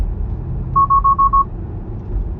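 A Tesla car's warning alert sounds inside the cabin, a quick run of five or six evenly spaced electronic beeps at a single pitch over low road rumble, then fades back to engine and road hum.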